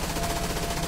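A short burst of rapid automatic gunfire from a PUBG match, dense and loud for about a second with no gaps.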